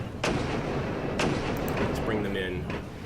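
Artillery firing smoke rounds in the Regiments war strategy game: three sharp, booming reports spaced about a second apart over a dense, rumbling battlefield din, with a voice faintly mixed in.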